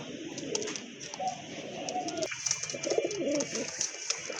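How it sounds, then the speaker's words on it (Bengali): Pigeons on a Bangladeshi breeder's premises coo repeatedly in low, rolling phrases, close by, with a few higher chirps and light background noise throughout. "এখানে কিন্তু এক জোড়া কবুতর আছে"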